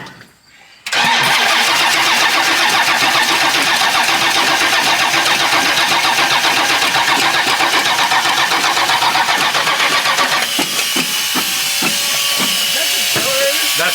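Pontiac 350 V8 on a dyno cranking and catching almost at once, then settling into a loud, steady roar close by that shifts to a rougher, pulsing idle near the end.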